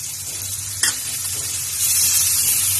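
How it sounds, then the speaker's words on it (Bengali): A paste of ground garlic, ginger and cumin fries in a pan, giving a steady close hiss with one brief scrape of stirring, the sizzle swelling louder toward the end. "এটা দিয়েও আমি 1-2 মিনিট নাড়বো যাতে এই মশলাটারও কাঁচা গন্ধটা চলে যায়।"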